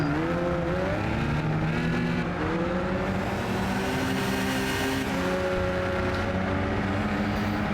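A car engine drones steadily with rising and falling revs, tires occasionally squealing, the synthetic sound of the racing game Gran Turismo, with no talking.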